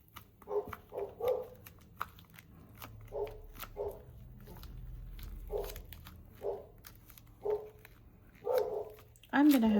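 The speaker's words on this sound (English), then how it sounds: "I can get my dogs in too. So, I have no idea what they're barking at." Dogs outdoors bark in short repeated bursts, several loud yaps spaced irregularly over a low steady background hum, with a louder bark at the end.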